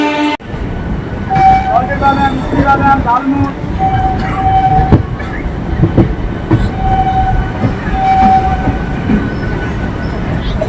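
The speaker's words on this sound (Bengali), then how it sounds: "প্রথম স্টপেজ হাওড়া থেকে ছেড়ে যাচ্ছে লিলুয়া যাবে।" A local train running out from Howrah toward Liluah rumbles loudly and continuously close by, with intermittent wheel squeals and rhythmic rail clatter.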